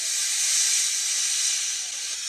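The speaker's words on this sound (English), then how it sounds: "He blew his whistle and wheezed lots of steam." A steam train engine releases a loud, steady hiss of steam, a continuous broad whoosh lasting a couple of seconds without pause.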